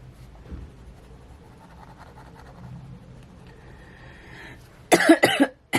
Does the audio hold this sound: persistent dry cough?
yes